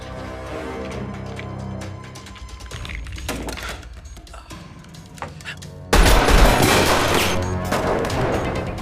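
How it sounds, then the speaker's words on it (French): Bursts of gunfire crack through, scattered shots early on, then a loud, dense barrage erupts near the end. "Il y a encore des coups de feu."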